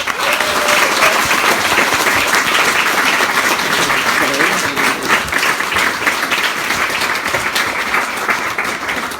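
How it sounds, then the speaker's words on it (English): A bookshop audience greets author Matt Haig at Waterstones Birmingham with sustained, loud applause that holds steady throughout and dips only slightly toward the end. "Ladies and gentlemen, give a much larger round of applause, please, for Matt Haig."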